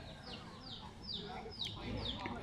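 Free-roaming chickens cluck in a quiet, shady natural setting, a series of short repeated clucks at close range over soft background ambience.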